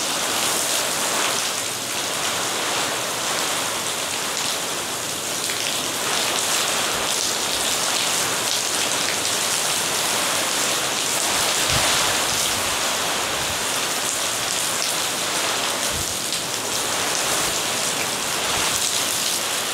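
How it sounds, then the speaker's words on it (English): Heavy wind-driven rain from Hurricane Milton near Disney World, Florida, roars continuously, a loud dense hiss of downpour with gusty surges and occasional thumps, no voices. "wind-driven rain. Look at that."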